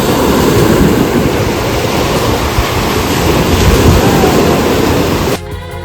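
Sea waves roll onto the coast at Odesa in a dense, steady roar of surf mixed with wind buffeting the microphone, loud and unbroken for several seconds before cutting off abruptly.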